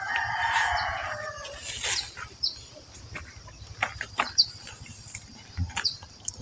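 A rooster crows in a backyard garden plot where chickens roam among seedlings, a drawn-out call in the first two seconds, followed by scattered clicks and chirps over a quiet outdoor hum.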